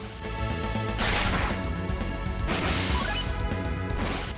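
Froth Sphere psynergy attack from the Golden Sun video game: a loud, dense burst of layered crashing and splashing effects that swells twice over a steady game-music bed, with no talking.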